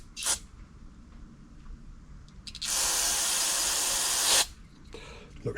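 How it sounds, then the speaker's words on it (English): Carb cleaner sprays onto the carburetor of a TroyBilt push mower left outside for two years, with a short hiss, then a loud steady jet of spray lasting nearly two seconds, then faint handling noises, close up. "Blow carb cleaner all over your stuff."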